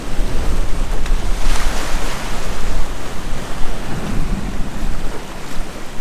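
Steady roar of ocean waves surging through blowholes, with broadband rushing noise and wind across the microphone, continuous and loud, no voices.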